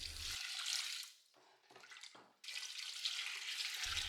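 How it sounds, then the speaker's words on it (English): Water pours steadily into a pot of tripe and beans with garlic and salt, a hissing, splashing rush, briefly cutting out before the stream starts again. "Then we will submerge that with water."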